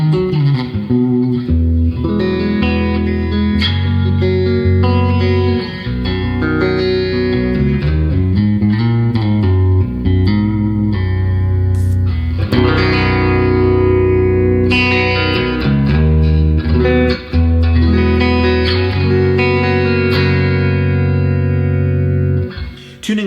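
Cheap baritone guitar on its middle pickup position, giving a Telecaster-like twang, played as loud sustained chords and riffs with some effects, no spoken words.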